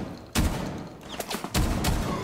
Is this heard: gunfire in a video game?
yes